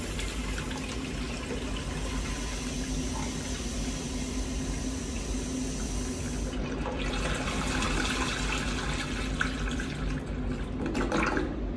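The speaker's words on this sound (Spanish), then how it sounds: "Mi compañero está abriendo el agua." Water rushes steadily through a leaking flushometer toilet valve, a constant loud hiss that shifts in tone partway through and swells again near the end, with no voices.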